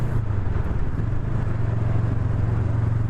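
A Honda Rebel 500 motorcycle cruises along with a steady low engine drone and rumble, plus wind noise, holding an even pace throughout.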